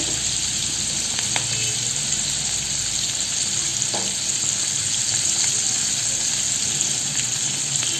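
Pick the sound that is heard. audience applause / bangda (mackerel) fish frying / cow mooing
bangda (mackerel) fish frying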